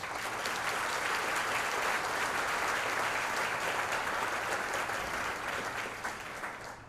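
Sustained applause from a luncheon audience at a multi-chamber hunger action event, dense and steady throughout before fading slightly at the end.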